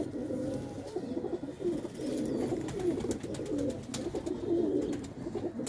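Golden pigeons cooing at a pigeon sale in Ludhiana, low throaty coos rolling on and off steadily throughout, with other birds and faint bustle around them.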